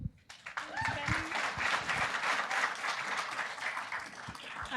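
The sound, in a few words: audience applause for the teams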